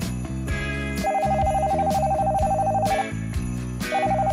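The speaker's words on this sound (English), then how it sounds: "that's my phone ringing." A telephone rings in a bright, repeated electronic trill, two loud bursts separated by a short gap, set over cheerful background music.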